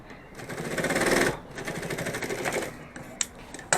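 A sewing machine stitches a zipper onto fabric for a cloth pen pouch, its motor running in steady rapid bursts of close, loud stitching that pause briefly before short clacks near the end.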